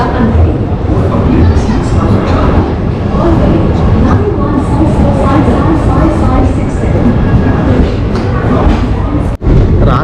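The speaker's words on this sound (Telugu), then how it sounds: "ఇప్పుడు మన ట్రైన్ అయితే కదులుతుందనమాట." A passenger train on the journey from Vijayawada to Jaipur moves along, giving a loud, steady rolling rumble that fills the whole stretch, with one brief dip in level near the end.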